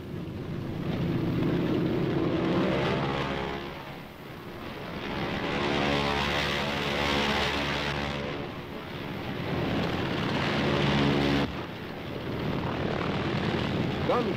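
Navy carrier planes on a Korean War strike mission roar overhead, droning propeller engines that swell and recede in several passes, loud and close.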